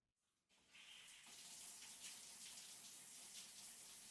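Hot shower water runs steadily after a brief quiet start, a continuous broadband spray hiss that stays loud and close to the end.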